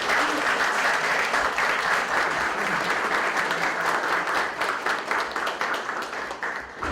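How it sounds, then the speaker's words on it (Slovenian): Sustained applause from an audience at a panel discussion, dense and steady clapping that fades slightly toward the end. "prosim za en aplavz vse organizacije"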